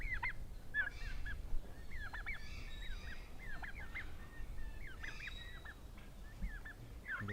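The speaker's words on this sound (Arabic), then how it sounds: "دجاج ولا شو؟ حبش." A turkey gobbles repeatedly in short rattling bursts, moderately near and fairly faint against quiet background noise, with no talk.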